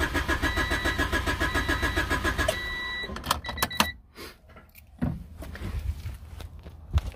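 A 1992 Honda Civic engine cranks without catching, a loud steady rhythmic starter churn for about three seconds, followed by scattered clicks, clunks and handling noises up close.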